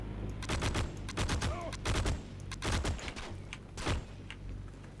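Bursts of FG42 rifle fire in the video game Heroes and Generals, several rapid volleys of loud, close gunshots spread across the moment, with sharp repeated cracks between short pauses.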